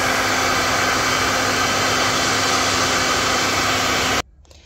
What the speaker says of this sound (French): j'utilise un sèche-cheveux de base